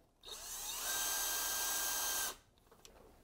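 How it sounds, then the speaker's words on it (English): A power drill spins up with a rising whine, boring a mounting hole in a skid plate for a Polaris RZR Pro R 4 at a high pitch for about two seconds, then stops abruptly, close and loud. "And then drill that out with that supplied drill bit."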